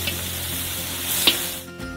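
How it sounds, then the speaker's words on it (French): Chopped onions fry in melted butter in a large cauldron, giving a continuous close sizzle with a brief sharp clink partway through before the hiss thins out. "Versez une grande quantité d'oignons hachés. Faites-les frire jusqu'à ce qu'ils soient transparents."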